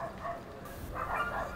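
Dogs bark outdoors at night near a car left on the roadside, a few short yelping bursts over a low steady rumble, fairly distant and moderate in level.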